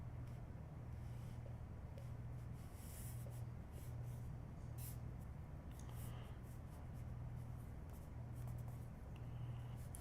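Pen nib scratching and gliding across thin, ink-absorbent sketching paper, a soft continuous drawing sound close to the microphone over a low steady background hum.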